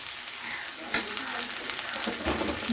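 Cut potato pieces dropped into hot oil in a pan for a Bengali hilsa and eggplant curry, giving a steady close crackling sizzle with a brief sharp splash near the start and no talk.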